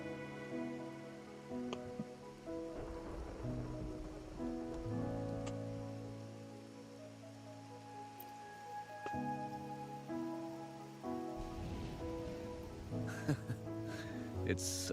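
Rain falling in the video game Wuthering Waves, a soft steady patter of drops on surfaces beneath layered game music, with a voice speaking briefly over it.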